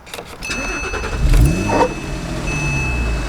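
A 2012 Porsche Boxster S Black Edition (987) sports car engine cranks and fires up, surging into a loud rev before settling into a deep, rumbling idle nearby.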